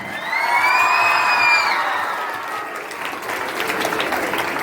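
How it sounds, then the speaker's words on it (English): A school audience at a Teachers Day celebration claps loudly and steadily, with cheering and children's shouts rising over it, then the applause carries on more evenly under a noisy crowd. "Now many will clap hands."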